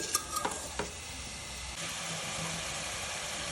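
Mushrooms fry in a pan for sambar with a steady, fairly soft sizzle, broken early by a few quick utensil scrapes and knocks.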